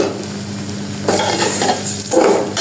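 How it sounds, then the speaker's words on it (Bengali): Vermicelli fries with cardamom, cinnamon and bay leaf, a loud close sizzle broken by spatula stirring and scraping against the pan. "এই যে সেমাইগুলো দিয়ে দিব এগুলোকে সুন্দর করে একটু ভেজে নিব"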